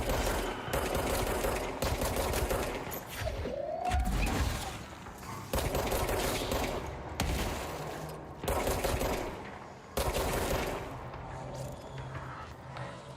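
Gunfire in the video game Control: repeated bursts of rapid automatic shots in clusters separated by short pauses, loud and punchy, with brief game effects between volleys.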